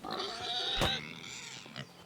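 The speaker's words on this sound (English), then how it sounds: "He's a pig." A pig in the medieval game Kingdom Come Deliverance 2 grunts and snorts close by in a steady, low, throaty run, with one sharper squeal near the middle.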